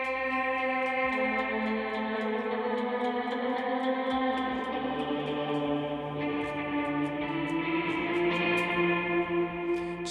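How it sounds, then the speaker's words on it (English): Layered metal guitar ambience from a Helix amp-modeler patch: sustained, swelling chords washed in reverb, echo and chorus, continuous and full throughout with shimmering repeats on top and no talking. "So another track I like to add as well is ambience."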